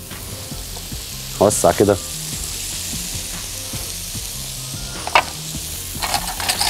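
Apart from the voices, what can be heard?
mushrooms searing in a frying pan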